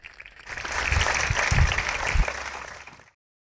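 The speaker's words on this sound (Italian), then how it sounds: "Un altro applauso" An audience at an award ceremony in Castelsardo, Sardinia, breaks into applause that swells, holds as a dense wash of clapping, then cuts off abruptly.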